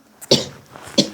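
A single harsh cough bursts out close and loud, followed by a short pause and a second, similar cough, both sharp and breathy with quiet room noise between them.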